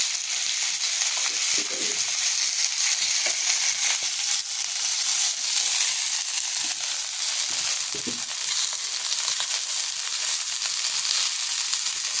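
Okra frying on a chapati griddle gives a steady, close sizzle with no break, and soft stirring clicks now and then.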